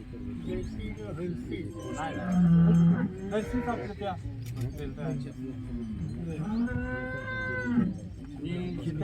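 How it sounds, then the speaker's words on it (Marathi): Cows on a small farm give several long, drawn-out moos, loud and close, mixed with people talking nearby. "जमीन 3 एकर आहे. गाया 6 आहेत."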